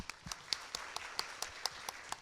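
Sparse, evenly spaced hand claps from a small conference audience at an agile seminar, a dozen or so sharp slaps in a quick steady rhythm, faint and somewhat distant in a quiet room.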